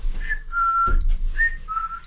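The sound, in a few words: whistling imitating a bird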